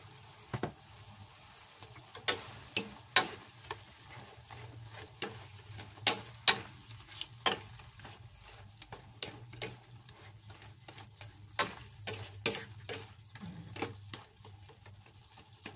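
Shrimp simmering gently in a pan over low heat, with soft bubbling and occasional clicks and scrapes of a utensil, quiet and close with no talk.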